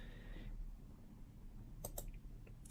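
Computer mouse clicking, two faint quick clicks close together over a quiet room hum, with a third softer tick just after.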